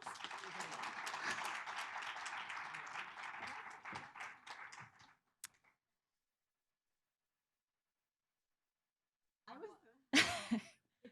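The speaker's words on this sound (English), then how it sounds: "we can give them a round of applause" Audience applause at a roundtable gathering, a full round of clapping that tapers off after about five seconds, followed by silence and a brief cough-like sound near the end.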